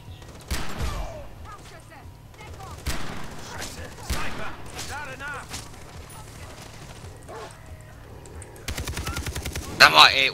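Gunfire in the Far Cry 3 co-op shooter: sharp shots and rapid bursts, including a fast machine-gun-like volley near the end, over a low game ambience with brief talk mixed in.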